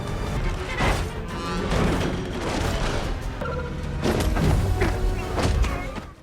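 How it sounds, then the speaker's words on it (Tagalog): A truck is shot, overturns and explodes in a battle scene from the 2023 film The Flash, heard as dense continuous crashing, booming and thudding impacts with gunfire-like bursts that stay loud throughout. "Pinaputukan ng isa sa mga kriminal ang isang truck dahilan upang ito ay tumaob at sumabog mismo sa harapan ni Batman."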